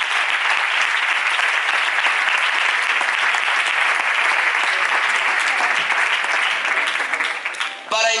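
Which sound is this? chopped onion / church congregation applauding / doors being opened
church congregation applauding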